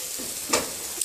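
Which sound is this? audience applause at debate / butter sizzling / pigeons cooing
butter sizzling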